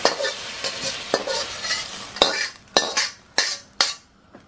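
Pad thai ingredients stir-fried in a pan, soft sizzling under repeated scraping and clinking strokes of a utensil against the pan, the strokes growing sharper and more spaced toward the end.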